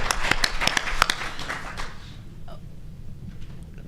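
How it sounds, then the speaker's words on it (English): An audience claps at a talk on climate change concerns, a burst of sharp, close claps in the first two seconds that quickly thins out and fades to quiet room tone. "We could clap for that all day."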